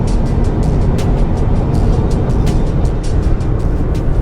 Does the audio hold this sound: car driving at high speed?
yes